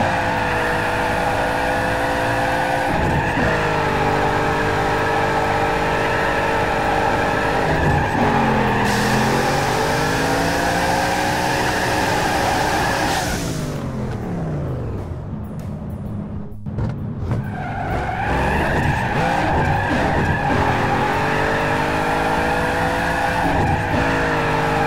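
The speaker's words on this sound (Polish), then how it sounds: "Wiedzieliście o tym, że można zrobić burnouta na wyższych przełożeniach?" A car in Need for Speed Underground 2 does a burnout in a high gear, with a sustained loud tire squeal over a revving engine that climbs and dips in pitch, briefly dropping before screeching again.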